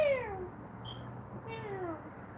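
A cat gives two drawn-out meows, the first falling in pitch and the second rising then falling, fairly close in a quiet indoor room with no talk over them.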